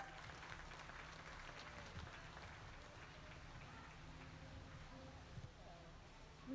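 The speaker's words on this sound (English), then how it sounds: "Let's give these kids a round of applause, if you would," An audience at a youth beef market show gives steady, sustained applause, a broad wash of many hands clapping at moderate distance, with a voice speaking over it and the clapping continuing evenly to the end.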